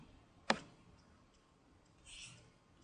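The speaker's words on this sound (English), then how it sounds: "Hover your mouse over Upload and scroll down and click on Upload Package." A single sharp, close computer mouse click stands out clearly against quiet room tone, followed by a faint, softer shuffle a moment later.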